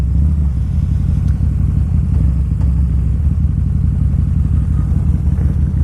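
A Harley-Davidson motorcycle with a 1250cc engine idles steadily close by, with a deep, even rumble and faint mechanical clatter and no revving throughout.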